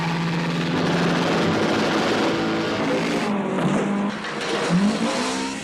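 A Lotus sports car from a James Bond film scene revs loudly nearby, its engine rising and falling in pitch through several throttle swells amid rushing noise.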